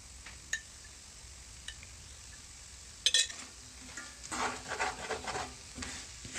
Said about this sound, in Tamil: தேங்காய் ஊத்தின பிறகு நல்லா mix பண்ணி விடுங்க